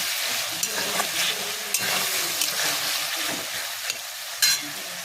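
Soy sauce sizzling in a hot pan while chili soya is sautéed, a constant crackling fry with scraping stir strokes against the pan and a few sharper clinks, close and moderately loud with no talk.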